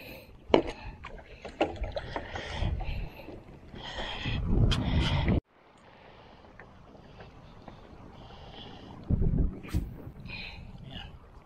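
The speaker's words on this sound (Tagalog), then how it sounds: "Lakas mo lang ang hangin." Gusts of strong wind buffet the microphone in loud bursts, with quieter rushing stretches between them and faint splashing and knocks around a boat at a lagoon.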